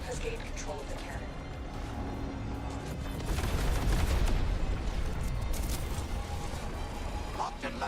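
A cannon fires in a video game battle, making a dense, continuous rumble of booms and gunfire that swells slightly midway. Game sounds fill the background throughout.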